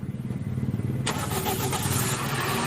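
Toyota Vios car cranking with a rapid rhythmic starter churn, then catching after about a second and settling into a steady running engine, close and loud.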